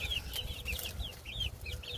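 Several chickens cluck and chirp in quick, overlapping bursts inside a coop behind hardware cloth, over a low rumbling background, fairly faint and close together.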